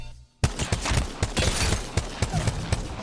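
Rapid single shots from a CAR SMG in Apex Legends ring out in a quick, steady series of punchy cracks, loud and close, with no talk over them.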